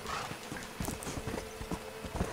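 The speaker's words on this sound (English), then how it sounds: "where's the goddamn horse going? Come on, dude, get back here." Horse hooves clip-clop steadily in Red Dead Redemption, a loud run of close hoofbeats in an uneven galloping rhythm, heard alone without talk.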